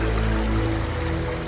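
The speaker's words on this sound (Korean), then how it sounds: "황량해 보이는 이 계곡에 이렇게 온천수가 지금 흐르고 있는데" Hot spring water flows through a barren valley as a continuous, close rushing trickle, steady and fairly loud, with a low hum underneath.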